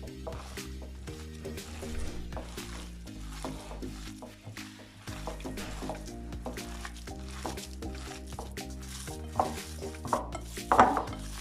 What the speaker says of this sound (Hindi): अब हम इसको अच्छी तरह हाथ की मदद के साथ मिक्स कर लेंगे।